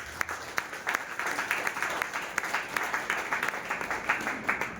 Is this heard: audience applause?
yes